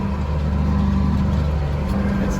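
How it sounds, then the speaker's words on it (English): A John Deere tractor engine running at low revs while driving over bumpy dry grass, a loud, steady low rumble with a constant droning hum. "the tractor's not revving very high right now"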